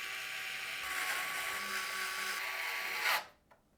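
An electric screwdriver drives screws that fix a PC power supply to the case bracket, a continuous whirring buzz for about three seconds that cuts off abruptly, followed by a small tap.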